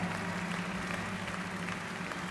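Dense, steady clapping from a crowd in the video game Final Fantasy VII Rebirth fills the whole short stretch, even and continuous at moderate volume.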